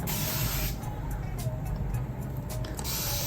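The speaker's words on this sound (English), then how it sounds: "I'm spraying rose water all over my hair" A spray bottle mists rose water onto hair during a retwist of starter locs, several quick pumped hisses in close succession, heard up close with no talking.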